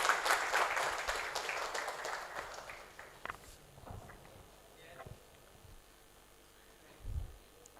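Audience applause at a university valedictory ceremony, loud and dense at first, then thinning into scattered claps and fading over several seconds, with a few isolated thumps near the end.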